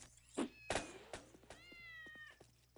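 Cat meows in the Postal 2 video game, a few short yowling cries with rising and falling pitch, faint and close, mixed with a couple of soft thumps.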